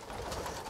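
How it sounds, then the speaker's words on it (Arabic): A sick pigeon coos in a brief, close, steady murmur against a noisy background. "غادي نوريكم الحمام اللي عندي مريض"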